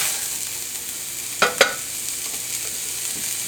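A continuous loud sizzle of ground beef balls pressed onto a hot cast iron griddle, with two quick metallic spatula clanks near the middle as the meat is mashed flat, close up and without speech.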